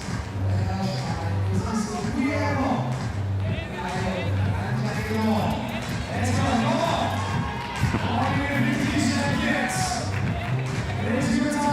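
Spectators at the Innsbruck 2024 men's boulder semi-final react with a sustained roar of cheering and babble, a dense crowd noise holding steady throughout, with an excited commentator's voice running over it.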